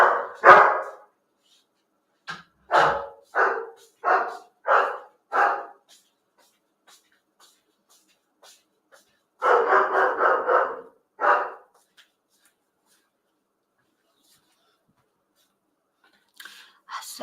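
A dog barks loudly and sharply in a run of about five quick barks, then a pause and a second burst of several rapid barks, close to the microphone with quiet gaps between.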